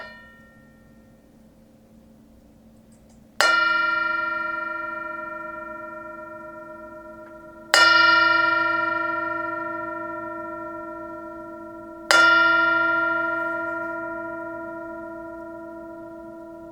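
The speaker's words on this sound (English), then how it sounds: "take a breath and get present and enjoy the sound of the bell" Meditation bell struck three times at a Sunday sangha, each clear, bright strike spaced a few seconds apart and left to ring out in long, slowly fading resonance, with no voices.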